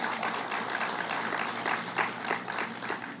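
Audience applause for a senator at a governor's bill signing on school zone speed cameras, a steady wash of many hands clapping at moderate distance, sustained throughout with no talk over it.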